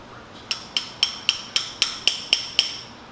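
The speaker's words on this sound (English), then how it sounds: "let me grab a hammer and just tap this in there a little bit" A hammer strikes a metal dowel pin in an engine case nine times in an even rhythm, each tap sharp and ringing, close by with no talking.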